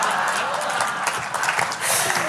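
A burst of audience clapping, dense and steady, with a voice speaking over it near the end.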